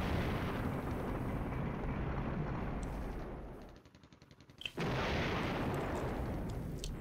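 Artillery barrage landing in the wargame Flashpoint Campaigns: a dense, continuous roar of rumbling blasts that briefly thins out before a sharp pop and resumes at full strength.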